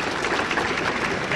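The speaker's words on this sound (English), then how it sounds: "Mr. Frank Ellis, bring him on a round of applause" Crowd applause at the Arkansas State Fiddler's Jamboree for fiddler Frank Ellis, a state fiddle contest finalist: a dense, loud wash of clapping that stays steady for the whole stretch.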